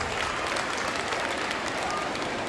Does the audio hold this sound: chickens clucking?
no